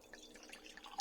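Hendre Huffcap perry poured into a glass, a faint, quiet trickle with soft drips and a small splash near the end, no voices.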